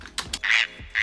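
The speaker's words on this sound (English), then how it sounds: "frogs." Short bursts of raspy animal calls, two quick clicks followed by two longer buzzing croaks, close and fairly loud.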